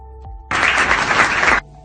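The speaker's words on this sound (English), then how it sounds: "Everyone, can we have a big round of applause?" Abrupt burst of audience applause, a dense, loud wash of clapping that starts suddenly, lasts about a second, and stops cleanly.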